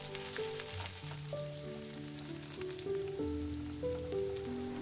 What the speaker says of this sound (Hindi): अब आइए इनको जरा अच्छे से भून लेते हैं।